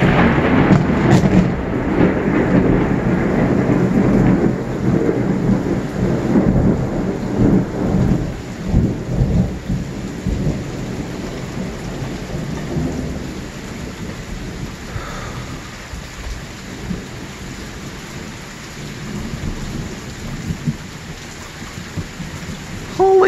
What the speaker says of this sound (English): We're dealing with thunder